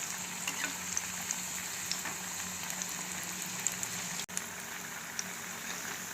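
Banana flower vadai deep-fry in hot oil on a low flame, giving a steady close sizzle and bubbling with faint small pops and no talking.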